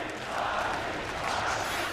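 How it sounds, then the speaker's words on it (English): A large esports arena crowd at the Dota 2 Kiev Major in Kiev gives off a steady, broad roar of cheering that holds at an even level throughout. "They're cheering for that creep."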